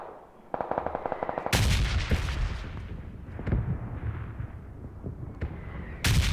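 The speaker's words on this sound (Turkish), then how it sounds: "bombalar patlıyor" Rapid gunfire rattles, then a series of heavy booming explosions rumble close by in PUBG Lite, with a final sharp blast at the end.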